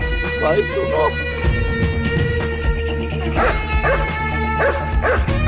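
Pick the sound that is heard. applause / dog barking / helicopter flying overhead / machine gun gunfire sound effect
dog barking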